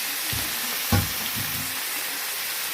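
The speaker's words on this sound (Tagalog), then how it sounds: "nagluluto na naman si Tito F ng chipon. Garlic shrimp." Garlic shrimp fry in a pan with a steady, loud sizzle, broken by a few soft stirring scrapes and one sharper clatter near the start.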